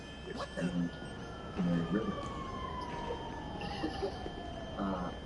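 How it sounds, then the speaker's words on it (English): Police siren in the GTA 5 Online video game, a steady wailing tone sounding moderately distant and faint beneath intermittent talking voices and background game noise. "Yo, I can hear the sirens from here."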